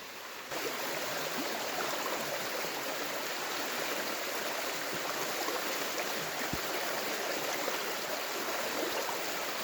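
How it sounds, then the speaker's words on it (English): Steady rushing flow of a creek close by, broadband and constant, with occasional faint splashes as someone wades through the water. "here we go with another creek crossing"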